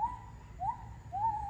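A peacock at Melaka zoo gives three faint, rising, wailing calls in quick succession, heard at a distance over a low background rumble.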